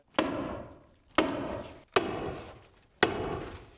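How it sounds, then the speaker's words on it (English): A hammer stapler slams staples into house wrap on a new home build, four sharp close impacts at uneven intervals, each ringing briefly before fading. "Hammer some staples in."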